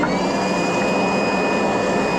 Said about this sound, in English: we're going to hope that the little DeWalt sweeper has it in it.